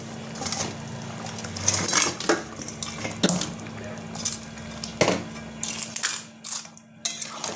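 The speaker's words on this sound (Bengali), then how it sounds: "মাথাগুলো আমি দিয়ে দিলাম।" Vetki fish heads go into boiling gravy in a cooking pot, with scattered metallic clinks and clatter from a utensil against the pot over a steady low background hum.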